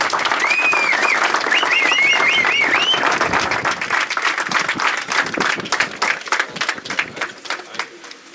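Applause ripples from spectators at an 85cc motocross semifinal race, with bird chirps over it at first and scattered claps that gradually thin out toward the end.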